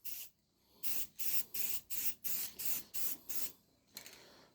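Aerosol spray paint, bronze, hisses onto the dash of a 1941 Plymouth in a series of about eight short, evenly spaced bursts, close and clear with no talking.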